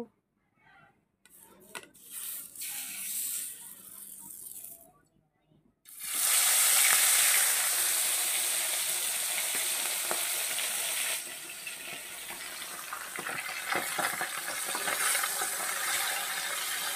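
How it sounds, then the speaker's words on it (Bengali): Pieces of bhola fish dropped into hot oil in a wok, a brief quiet handling start followed by a loud, steady, close sizzle and crackle that continues to the end. "প্রথমে মাছটা ভেজে নেব বন্ধুরা"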